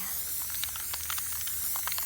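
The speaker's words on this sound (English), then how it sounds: "I'm going to shake up my paint really, really well." A steady hiss of aerosol spray paint sprayed through a stencil, close and continuous, with faint rattling and crinkling textures mixed in.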